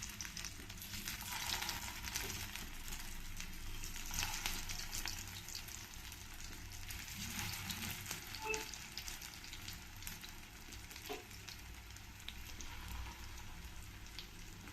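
Carrot cutlets fry in hot oil over a medium flame, giving a steady, even sizzle that holds at a moderate level throughout with no voices.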